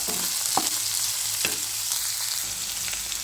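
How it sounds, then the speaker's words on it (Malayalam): Chopped onions sauté in oil for Kerala-style chickpea curry, giving a steady close sizzle broken by a few sharp clinks of stirring against the pan, with no talking. "സവോള ഇത്രയും ഇട്ടതിന് ശേഷം നന്നായി ഇളക്കി ഒരു രണ്ട് മിനിറ്റ് വഴട്ടി കൊടുക്കുക"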